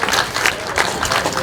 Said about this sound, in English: I'm sure you've got a great big round of applause for a man who's done a sterling job out there tonight.